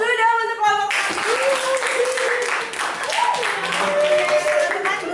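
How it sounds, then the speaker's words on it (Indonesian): Applause for the first student group at a tourism lecture, a broad wash of clapping that starts after a short tone and carries steadily for several seconds, with voices in the room talking underneath. "aplaus dulu dong untuk kelompok 1"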